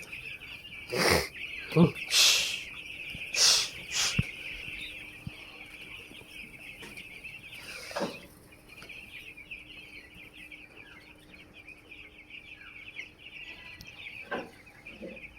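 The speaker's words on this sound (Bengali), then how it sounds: "নতুন জায়গায় আজকে মুরগিদের দিলাম" Chickens and chicks newly moved from an upper floor to a new spot downstairs give several loud clucks and squawks early on, then quieter bird chirps continue over soft background noise.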